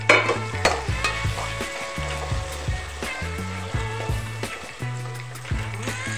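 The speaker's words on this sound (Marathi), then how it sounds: "आता मी यामध्ये टोमॅटो टाकून घेणार आहे" Tomatoes hit a frying masala pan for a spiced soybean chunk dish, sizzling steadily while being stirred with repeated scrapes, a low melodic music track playing underneath.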